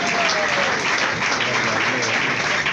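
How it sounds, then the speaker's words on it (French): Steady, dense audience applause that holds at an even level throughout, with a voice faintly audible beneath the clapping. "On applaudit pour lui, s'il vous plaît."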